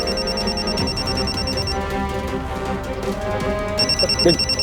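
A telephone rings with a high electronic trill in two bursts, loud and close, over a busy background of music and room noise.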